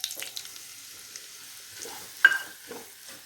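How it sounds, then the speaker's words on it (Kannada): Bombay rava semolina roasting in a pan over medium heat for Karnataka-style kesaribath, with soft scraping stir strokes and a faint dry sizzle, one sharper clack near the middle, no voices. "ಮೀಡಿಯಮ್ ಹೀಟಲ್ಲೇ ಚೆನ್ನಾಗಿ ರವೆ ಹುರ್ಕೋಬೇಕು."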